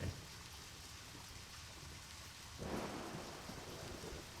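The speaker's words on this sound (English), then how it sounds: "This storm, wow." A thunderstorm in the Deadly Premonition video game: heavy rain pours steadily, then a low rumble of thunder swells in and rolls on under the downpour, with no voices.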